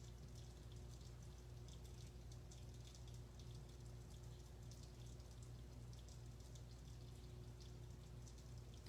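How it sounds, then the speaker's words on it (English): Steady rain falls outside, a continuous even patter of drops with a soft low hum beneath, no voices. "It's really raining outside now."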